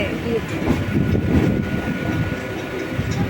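A Kolkata Chakra Rail train on the Dum Dum to Majherhat line rumbles steadily as it passes beneath the Second Hooghly Bridge, a dense continuous roar with faint rail clatter heard from on board.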